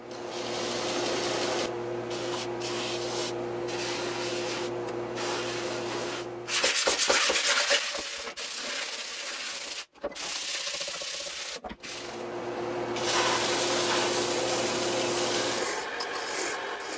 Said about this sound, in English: So I sanded these parts